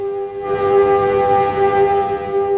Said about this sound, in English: At the sound of the siren, the entire country stands at attention on Memorial Day